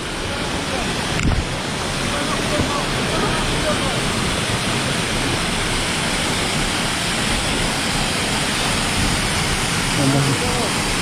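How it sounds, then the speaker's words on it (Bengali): A side waterfall at a Purulia tourist spot where people bathe, heard as a loud, continuous broadband rush of falling water close by, steady throughout. "একটা সাইড জলপ্রপাত দেখলাম, আর এটা কিন্তু মেইন"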